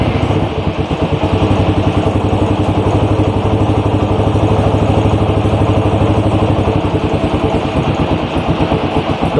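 A Suzuki Satria FU150 motorcycle engine runs steadily on its stand, with a loud, close, continuous rhythmic pulsing that holds even throughout with no clear rise in revs.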